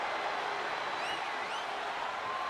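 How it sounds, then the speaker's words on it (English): Capacity arena crowd at a no-holds-barred WWE 2K25 wrestling match, a dense, steady roar of cheering and applause with faint whistles rising above it. "do you hear this capacity crowd?"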